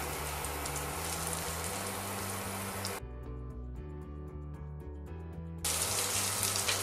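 Calf liver sizzles and spits in browned butter in a pan, a loud continuous frying hiss that dips briefly in the middle before surging back.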